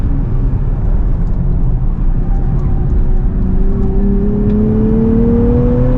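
A 2027 Nissan Z NISMO with a six-speed manual drives hard on a track, its engine whirring loud and close as the pitch climbs steadily under acceleration.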